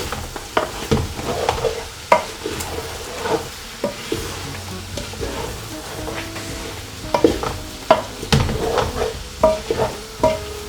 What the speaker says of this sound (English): Now I'm going to give that a nice mix. Really mix that up.